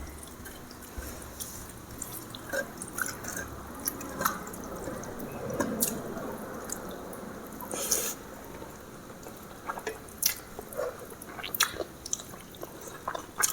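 Close, soft wet squishing and chewing while someone eats pakhala, fermented water rice, with saag kharada by hand in an Odia eating challenge; intermittent smacks and drips continue throughout, with no speech.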